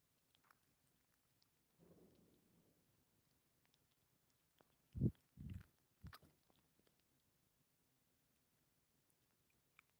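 Kittens crunch treats in a quiet room, with a few close, brief crunching bites clustered together amid near silence and faint rustling.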